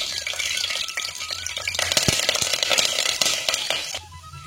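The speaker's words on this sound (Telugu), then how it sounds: "తాలింపు దినుసులు అన్నీ వేగాయండి." Tempering seeds and curry leaves frying in hot oil in a pan for bajra dosa stuffing, a dense crackling sizzle with occasional pops, fading near the end.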